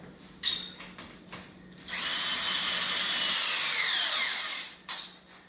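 A cordless drill whirs for several seconds while assembling a power trowel, its pitch dropping as it slows under load, with a few short clicks and bumps before and after.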